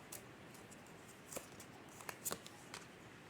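Tarot cards being shuffled by hand up close, a soft steady papery riffle with a few sharper flicks and snaps, quiet and alone with no talking.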